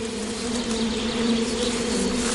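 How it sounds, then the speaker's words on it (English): Rare Wujan bees buzzing at hives in the Russian hills, a dense and continuous drone with steady pitch, close and loud, with no voices. "rare Wujan bees."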